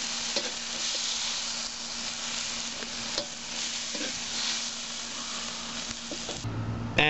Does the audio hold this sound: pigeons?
no